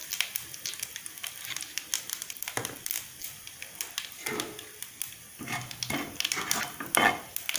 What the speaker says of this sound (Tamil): கலந்துக்கோங்க. லேசாக கலந்துக்கலாம்.